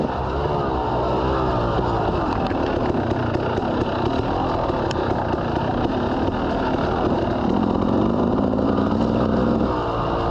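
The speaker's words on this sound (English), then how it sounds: "My bike's just a hair lean. You can hear it when I'm not in the throttle and I'm coming down, and it's hitting like that." Motorcycle engine running slightly lean while riding, a steady loud drone mixed with wind rush, with the faint irregular popping of off-throttle deceleration possible but not clearly separated.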